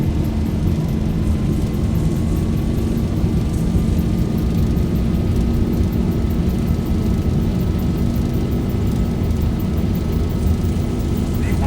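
Boeing 737 engines in the X-Plane 11 flight simulator during the takeoff roll, a loud, steady, dense roar with a faint rising whine, continuous and unbroken throughout with no talking.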